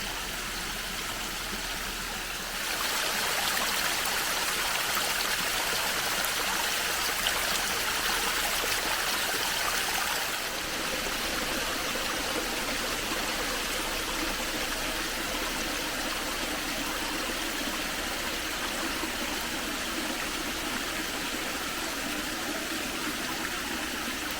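River flowing along its wooded banks in a hillside woodland, a steady broadband rushing of water heard close, loudening after a few seconds and holding constant with no voices.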